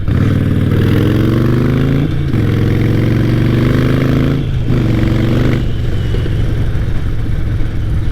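A Harley-Davidson motorcycle engine pulling hard, a loud low throbbing drone that climbs in pitch through the gears and drops back between shifts, heard close over steady wind rush.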